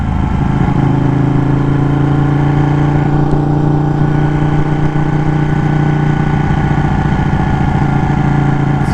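Motorcycle engines running side by side, one of them a Ducati, with a loud, steady, sustained drone and strong low harmonics, close to the listener with no talking.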